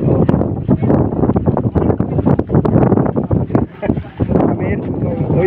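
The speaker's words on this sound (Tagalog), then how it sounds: "Lakas ng hangin eh" Strong wind buffets the microphone in constant low rumbling gusts, with people talking over it.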